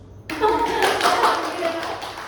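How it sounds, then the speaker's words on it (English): A classroom audience breaks into applause on request at an English-language lesson, with a burst of clapping starting abruptly, staying loud and dense for about two seconds, then thinning. "So can you give me an applause?"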